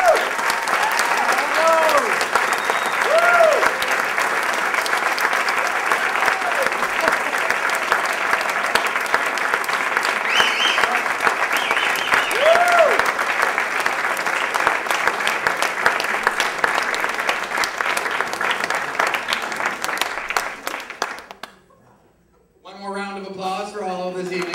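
Sustained applause for award winners at an Amherst Area Chamber of Commerce awards dinner, a full room clapping steadily for about twenty seconds before fading, then a voice speaking alone.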